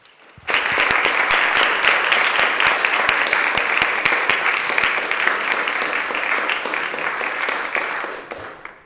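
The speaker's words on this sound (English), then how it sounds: "So let's give them all a big round of applause." A full assembly chamber breaks into a big round of applause at a state legislative floor session, dense and steady clapping that swells quickly and holds loud for several seconds before tapering off.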